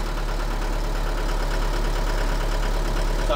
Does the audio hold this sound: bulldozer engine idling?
yes